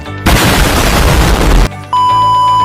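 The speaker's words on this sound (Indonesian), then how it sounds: "melihat sebuah bom, lalu meledak" A loud burst of roaring noise erupts and rumbles for over a second, then cuts off, followed by a steady electronic tone.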